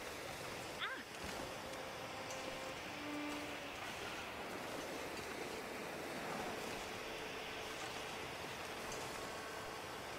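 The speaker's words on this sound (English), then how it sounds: "storm's starting" Steady wind roars through a snowy wilderness as a storm begins in The Long Dark, a broad continuous rush of gusting air filling the scene at an even level with no breaks.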